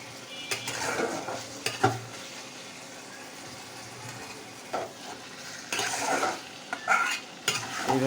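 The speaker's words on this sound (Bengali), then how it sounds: "এইভাবে ভালোভাবে নাড়াচাড়া করে দিতে হবে।" Shrimp stir-fried in a pan before greens go in, with bursts of scraping and clattering utensil strokes over a low background sizzle, uneven and close, stirring louder toward the end.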